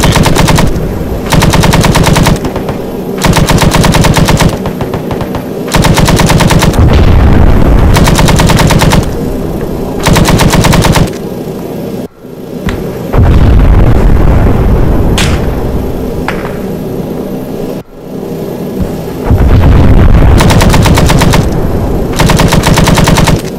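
Long, loud bursts of machine gun fire from the video game ARMA 3, sustained strings of rapid shots broken by brief gaps, firing toward enemy troops in woods on a flank, with no talk.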